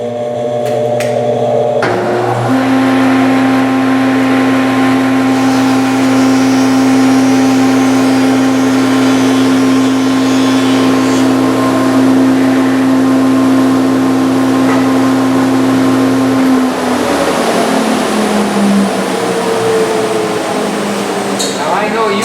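A 20-inch planer runs loud and steady, its motor droning with a strong hum while it cuts wood along the board for about fifteen seconds before the pitch drops as it winds down.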